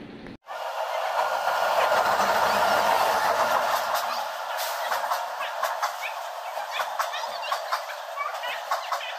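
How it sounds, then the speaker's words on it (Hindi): A train pulls into a station, a broad rumble rising after a sharp onset, then fading into rhythmic clacks of wagons and scattered clicks, loud and close with no talk. "तो गाइस फाइनली हमारा ट्रेन आ गया है"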